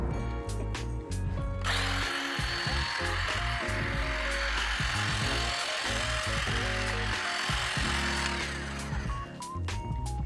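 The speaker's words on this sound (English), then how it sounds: "This is our first time using a hedge trimmer" A hedge trimmer run from an Anker Solix F2000 power station cuts through brush to clear a trail, buzzing loudly and steadily nearby with snaps and crunches of branches throughout.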